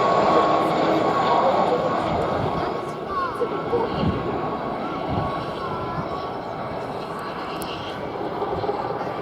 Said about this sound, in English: The aircraft leading the formation was the last Gazelle on their strength.